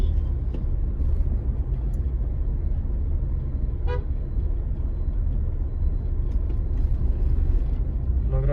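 Traffic jam on Bangalore's Outer Ring Road on a Sunday: a steady loud engine rumble with a few short car horn toots scattered through it, heard from close by in slow-moving traffic.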